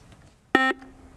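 A quiz show buzzer at a high-school quiz contest gives one loud, short electronic tone lasting about a fifth of a second, standing alone against quiet room tone.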